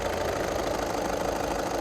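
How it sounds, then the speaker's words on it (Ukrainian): A Skoda Octavia A5 with a 1.6 diesel engine idles steadily and smoothly, a continuous even mid-to-low hum with a faint knocking texture and no talking. "Так працює двигунчик. Рівненько, тихенько,"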